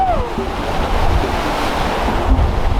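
Strong wind of about 30 knots and rough seas surround a sailing boat in the open ocean, a continuous roar of gusts and breaking water close to the microphone.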